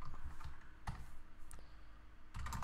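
Typing on a computer keyboard while entering code, with a few sharp key clicks and short bursts of keystrokes, close and fairly quiet, with no talk.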